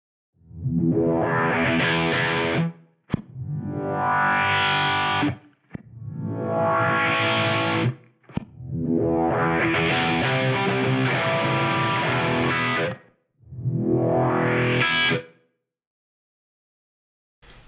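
Distorted electric guitar chords ring out through a Fractal FM9 effects processor's sweep effect, the tone filtering and shifting across several sustained strums separated by short pauses.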